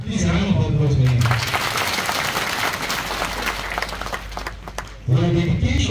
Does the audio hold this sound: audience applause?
yes